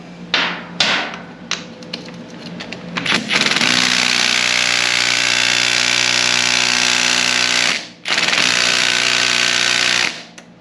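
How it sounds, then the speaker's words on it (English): A 1/2 inch impact wrench hammers loose a shock link bolt on a Honda CRF300L Rally motorcycle, with short bursts of rattling before a long sustained loud rattle, a brief pause, then another burst, alone and close. "I had to go get the 1/2 inch impact because my 3/8 just wasn't strong enough to do it."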